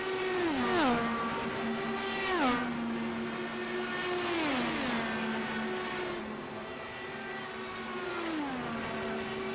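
IndyCar race cars lap the Phoenix oval in a sim racing game, engines screaming at high revs with repeated sharp downshift drops in pitch, several cars overlapping in a loud, continuous roar.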